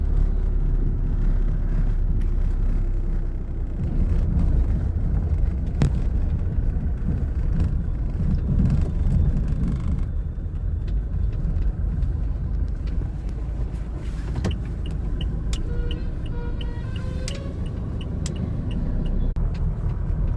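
A car on the road, heard from inside as it drives: a steady, loud low rumble of engine and tyres that holds throughout, with faint tonal whines and a few brief high beeps toward the end.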